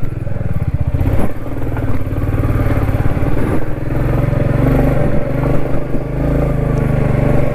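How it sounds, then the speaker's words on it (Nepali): Motorcycle ridden over a rough, difficult road in Nepal, its engine droning loud and close with steady low rumble, occasional clatter and bumps throughout. "बाइक चलाइ चाहिँ मेरो धेरै महिना पछाडि भएको"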